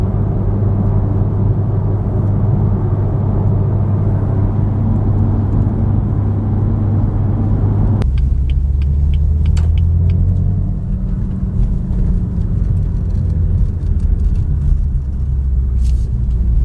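Steady low engine rumble and road noise from inside a moving car, constant and close, with a shift in the drone partway through and a few light clicks and rattles.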